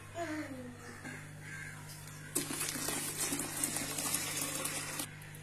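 Boiled curdled milk for rasgulla is poured through a cloth in a strainer, giving a steady close splashing and trickling of liquid after a quieter start with a faint crow caw in the background.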